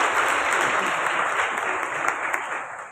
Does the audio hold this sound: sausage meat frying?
no